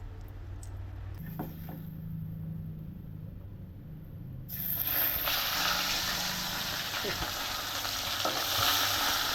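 Oil spattering and sizzling in a pan over a wood-fired clay stove, with water in the oil making it pop; a steady close sizzle that swells louder and harsher halfway through and keeps crackling.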